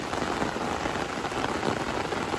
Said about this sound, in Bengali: বিভৎস পরিমাণে বৃষ্টি শুরু হয়েছে।